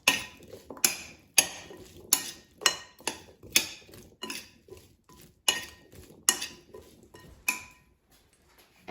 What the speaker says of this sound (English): And now I will toss them to coat evenly with oil and seasonings.